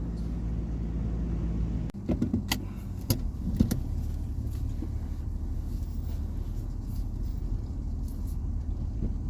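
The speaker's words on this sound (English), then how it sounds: "So just leaving the driveway." A car pulls out of a home driveway on the way to a vet clinic, its engine rumbling steadily up close inside the cabin, with a few brief clicks and rattles early on and no talking.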